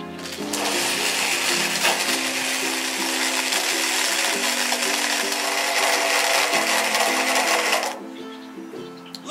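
PopBabies portable blender crushing ice for a smoothie, a steady loud whirring motor hum with gritty rattling of ice, running continuously for several seconds before stopping abruptly.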